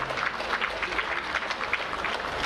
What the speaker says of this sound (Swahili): Naomba tuwapigie makofi mengi sana.